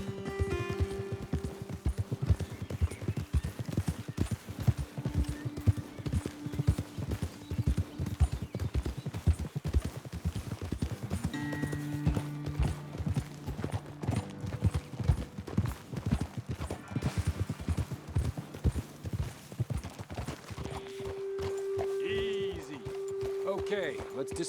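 Horse hooves clip-clop in a steady trotting rhythm while riders travel in Red Dead Redemption 2, close and continuous, with people talking over the hoofbeats and a game score playing underneath.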